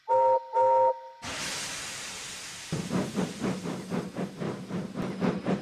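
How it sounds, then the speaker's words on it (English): Two whistle blasts, then a loud steam locomotive hiss that settles into rhythmic chuffing as it gets moving. "He backed on his train hissing mournfully."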